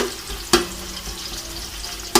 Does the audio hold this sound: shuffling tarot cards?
no